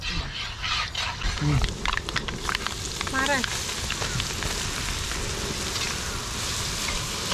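Fenugreek seeds fry in pickle masala in a pan, giving a steady hissing sizzle with a brief crackle near the start, heard close up while a person talks over it.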